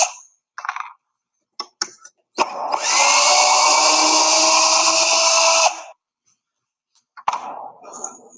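A cordless power drill backs screws out of a modern Adirondack chair's leg and arm, with a few short clicks and taps, then one sustained whirring run of about three seconds, close and loud, followed by more brief clatter.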